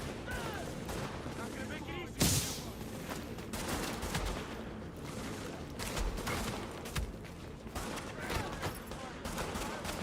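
A rioter fires on the player in Tom Clancy's The Division, with rapid bursts of gunfire cracking through the scene. One sharp, loud shot stands out early, followed by steady volleys and game noise, while a voice talks underneath.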